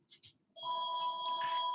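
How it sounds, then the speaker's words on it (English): A telephone rings inside a working pottery, a steady electronic trill after a couple of short soft sounds, close and fairly loud, with no talk over it. "Sorry about the phone ringing in the background."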